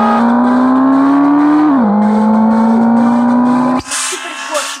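A loud car engine drones steadily at high revs, the pitch dipping briefly, then cuts off abruptly, leaving some mechanical noise and rumble.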